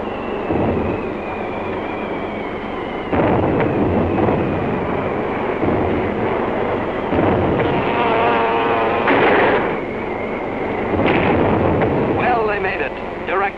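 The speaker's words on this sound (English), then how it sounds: "Direct hits with those 600-pounders of TNT blowing up right in Hirohito's face." 600-pound TNT bombs burst on direct hits during a wartime bombing raid over Japan, a dense series of loud, heavy rumbling blasts that roll into one another without pause.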